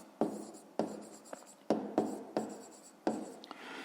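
Pen writing by hand in a notebook, a series of close scratchy strokes in short bursts with brief pauses between them, alone without talk.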